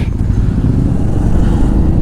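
A motorcycle engine drones steadily and loudly up close on a ride from Ilam to Sandakphu, a continuous low rumble, with no voices.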